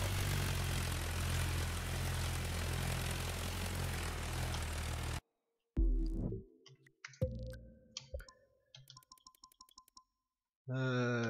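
A propeller plane drones steadily in The Crew 2 racing game, with a loud continuous engine buzz for about five seconds before the sound cuts to scattered game interface blips and tones.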